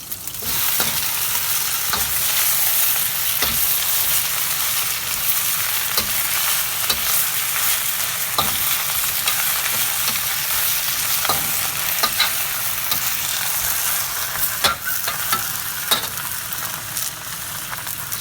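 Bok choy sizzling in a very hot wok, a loud, steady frying hiss lasting throughout, punctuated by the repeated scrape and clack of stirring.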